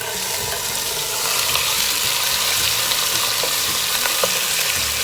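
Chicken is frying in a pan for pochero, giving a loud, close, continuous sizzle with stirring scrapes and small crackles, and no talk.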